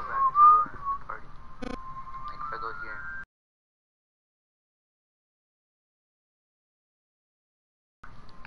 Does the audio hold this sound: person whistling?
yes